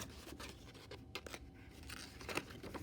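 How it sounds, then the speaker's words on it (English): Scissors snip slits into cardboard in a quick series of close, crisp cuts, each a short rasping crunch, with no talking. "So you can cut your slits on each side like that."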